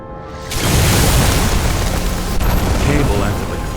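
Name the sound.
explosion in the video game Detroit: Become Human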